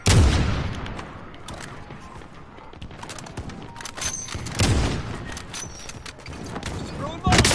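Gunfire in a shooter video game: scattered shots and booming blasts, some near and some distant, with a voice talking over the combat.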